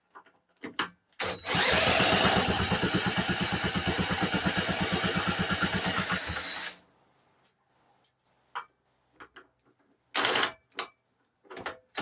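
A vintage Briggs and Stratton engine starts on choke and runs loud and close with a rapid, even firing rhythm for about five seconds, then cuts out, followed by scattered knocks and a brief second burst.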